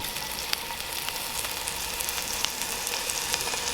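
Steak and morel mushrooms searing in butter in a cast iron pan outdoors: a steady close sizzle scattered with small crackling pops, no voices.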